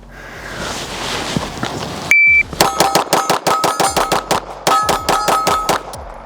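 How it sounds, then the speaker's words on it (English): A TS2 competition pistol fires a rapid string of 17 rounds, sharp loud reports in fast even rhythm with ringing metallic clangs of steel targets, preceded by a timer beep and faint background noise. "Now we're gonna see how fast we can go 17 rounds with the TS2."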